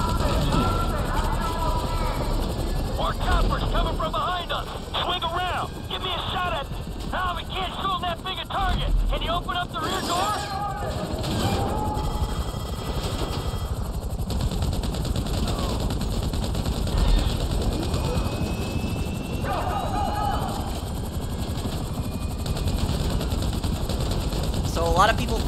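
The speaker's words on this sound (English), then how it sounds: "Who are these Merryweather choppers right there?" Gunfire and helicopter rotor noise from Merryweather choppers in the GTA 5 heist, a constant dense wash of bursts and engine roar, with someone talking over it throughout.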